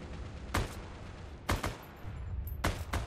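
M1 Garand rifle firing in Heroes and Generals: three sharp, loud shots spaced about a second apart, each a crisp crack with a short tail, over steady low battlefield rumble.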